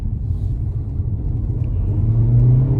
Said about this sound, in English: I do have to stab the gas pedal just a little bit just to go out my way